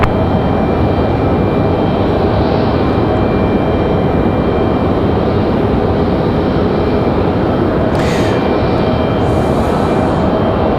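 A jet airliner takes off from runway 23 left at Raleigh-Durham airport, its engines a loud, steady broadband roar that fills the whole stretch without letting up.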